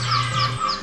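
Seagulls call at the Oregon Inlet boat harbor near Cape Hatteras, a few thin overlapping cries that rise and fall over a steady low engine hum which cuts out partway through.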